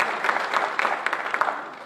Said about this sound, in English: he deserves applause. He deserves applause.